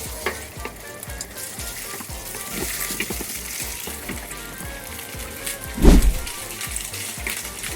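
Pork and ginger stir-frying in a hot pan, with a loud, continuous sizzle broken by rapid repeated scrapes and tosses of the spatula and one heavier clatter near the end.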